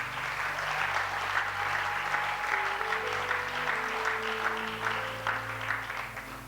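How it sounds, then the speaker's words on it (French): A church congregation at an Easter seminar claps in steady, dense applause that fills the whole stretch, with sustained keyboard-like tones sounding softly underneath. "Acclamons pour la parole de Dieu."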